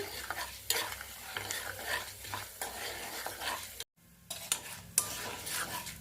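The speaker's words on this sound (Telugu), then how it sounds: "మినపప్పు బాగా గోల్డెన్ కలర్ వచ్చేట్టుగా వేయించుకోవాలి" Urad dal fries in a pan until golden while a spoon stirs it, giving a continuous soft sizzle with repeated scraping and clinking strokes and a brief pause midway.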